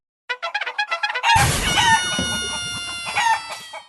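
A rooster crows loudly and close, one long drawn-out call, following a quick run of bright, rhythmic clucking notes.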